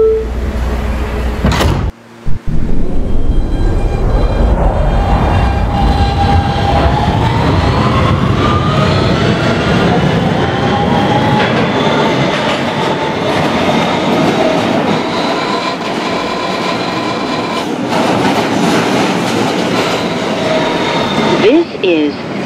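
A Roblox simulation of an R160B Siemens subway train on the BMT Broadway Line, a Brooklyn-bound N local, running with a steady loud rumble and rising motor whine, a sharp door clunk near the start, then continuous wheel noise.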